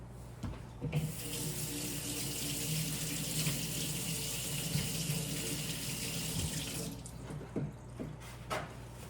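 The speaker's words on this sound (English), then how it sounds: "Now you're gonna have to wash your hands." Tap water runs steadily into a kitchen sink while hands are washed, a close continuous splashing rush that stops near the end, with a few clinks around it and no talking.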